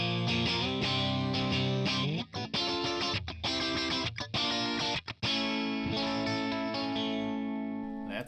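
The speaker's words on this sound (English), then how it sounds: "Let's try the crunched balanced. Again, the noise gate," Electric guitar played through a Tonex ONE crunch amp model with a noise gate, sustained distorted chords and notes with short gated drops to silence between phrases.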